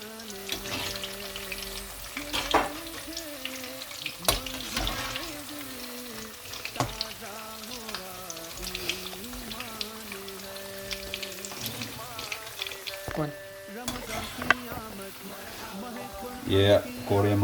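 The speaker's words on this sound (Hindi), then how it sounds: "ये पकौड़े हमारे फ्राई हो चुके हैं तकरीबन" Pakoras deep frying in oil, a continuous crackling sizzle with sharp pops and occasional stirring clatter, while someone talks over it throughout.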